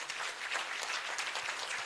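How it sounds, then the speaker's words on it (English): Audience at a graduation ceremony applauds the CEO of a national construction incubator, a soft, steady wash of many hands clapping, fairly distant and continuous. "give her a grace and clap hands"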